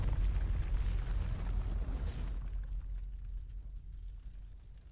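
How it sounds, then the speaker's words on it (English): A deep, rumbling explosion in Final Fantasy XVI with a bright burst at about two seconds, followed by a low booming roar that slowly fades. "And now we continue with the explosions."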